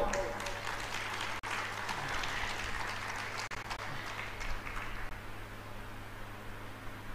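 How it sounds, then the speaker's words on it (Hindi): A large audience applauds at a live Shri Ram Katha religious discourse, a steady, fairly faint wash of clapping with a low hum underneath, continuing evenly for several seconds. "कृतज्ञता के रूप में हम सभी करतल ध्वनि के साथ उनके प्रति आभार व्यक्त करना चाहिए। कृपया तालियों में कंजूसी ना हो।"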